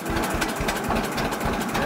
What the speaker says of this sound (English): It'll idle about 350 to 400 RPM. Right now it's about 350 RPM.